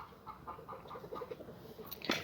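Soft, repeated clucks from a black Cochin hen laying eggs in a nest, in a steady low rhythm, close by, with a brief louder rustle near the end.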